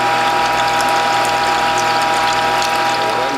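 A Whole Health Foundation juicer press squeezing pineapple, ginger and turmeric, giving a loud, steady mechanical grinding and ratcheting whir that runs unbroken throughout.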